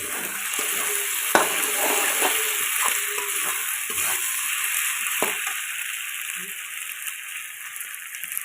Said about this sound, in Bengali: এখন দিয়ে দিবে টমেটোটা একটু ভেজে নেবে